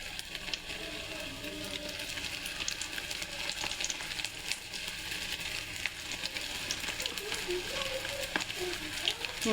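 Pakoda deep frying in hot oil, cooked wedding-house style, gives a steady, dense sizzle and crackle that runs throughout at close range, with small bubbling pops layered on top of the continuous hiss.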